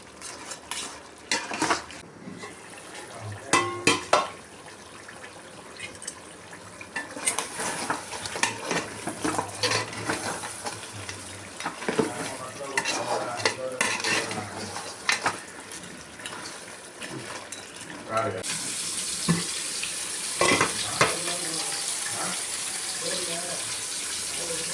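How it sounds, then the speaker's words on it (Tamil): Crab fry is stirred in a pan with a metal spoon that scrapes and clinks against the sides over a steady sizzle, with bursts of irregular stirring and a louder, continuous frying hiss near the end. "அப்பப்போ இதை நல்லா கிளறி விட்டுக்கிட்டே இருங்க"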